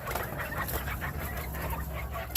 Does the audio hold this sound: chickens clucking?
yes